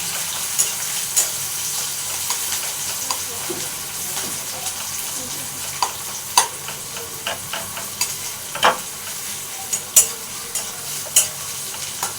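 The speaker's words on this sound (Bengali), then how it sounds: "তেল গরম হয়ে গেছে দিয়ে দিচ্ছি পেঁয়াজ" Sliced onion frying in hot oil in a kadai for Hakka chow mein, a steady close sizzle with scattered sharp crackles and pops, some clatter from stirring, and no talk over it.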